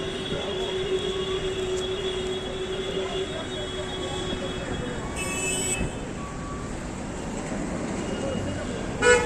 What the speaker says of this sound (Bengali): তো মেট্রো এসে গেছে